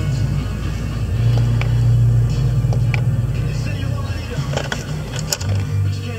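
A 2011 Ford F-150 pickup with very high mileage idles after starting, a deep steady engine rumble close by that swells slightly, with voices talking over it.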